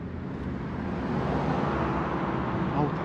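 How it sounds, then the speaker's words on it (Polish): Road traffic roars steadily past, a dense, continuous wash of car and engine noise at moderate loudness with no breaks or distinct single pass-bys. "Auta."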